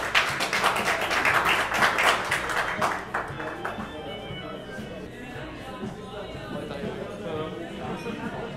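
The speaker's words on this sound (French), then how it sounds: "applaudissements" Applause at a semikha graduation ceremony, as a rabbinical graduate from Brussels is called up: dense clapping with some crowd murmur for about three seconds, then settling into quieter room noise with light scattered sounds.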